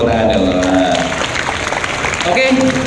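Audience applause in an indoor gathering, a dense wash of clapping sustained for the whole stretch, fairly loud, with some voices mixed in underneath.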